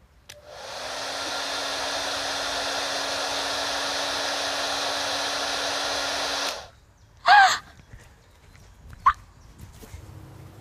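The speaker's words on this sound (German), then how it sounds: "Föhnluft!" Hair dryer switching on and blowing a steady, loud whooshing hum for about six seconds before cutting off, followed by a few brief sharp sounds in a quieter room.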